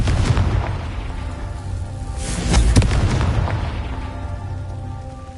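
A Confringo fire spell bursts in Hogwarts Legacy, a loud rumbling boom that swells around the middle and fades into a crackling, rain-like rush, with no talk.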